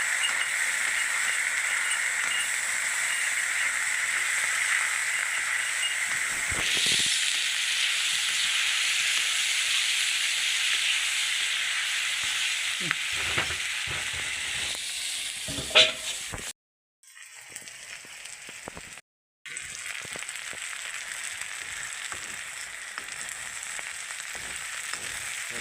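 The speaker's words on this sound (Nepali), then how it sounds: "फ्राई हुँदैछ है ल फ्राई हुँदैछ" Food fries in a pan with a steady broadband sizzle and hiss that runs throughout, briefly broken by a couple of short gaps near the end.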